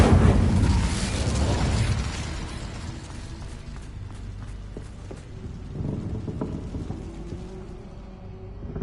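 The Incendio fire spell in Hogwarts Legacy erupts in a loud, rumbling blast at the start, then fades into a crackling, burning roar with scattered small pops, close and without any talk.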